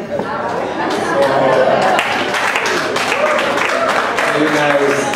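Audience applause and crowd chatter at a live poetry reading, a steady dense wash of clapping and murmuring voices that holds loud and continuous throughout.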